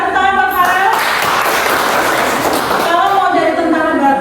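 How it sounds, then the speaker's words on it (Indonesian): An audience claps for a child named Farel, a burst of clapping that swells in the middle and fades, with voices speaking before and after it. "Tentara, tepuk tangan buat Farel."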